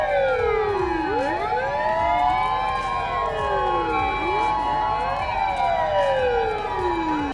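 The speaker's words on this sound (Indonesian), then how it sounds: "yang ini truk pemadam kebakaran." A toy fire truck siren wails loudly in repeated rising and falling sweeps, several overlapping tones cycling continuously without pause.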